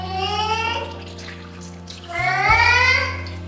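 Water pours from a tap into a pot in a home kitchen in two splashing bursts, the second louder and fuller, with a low hum underneath and no talk.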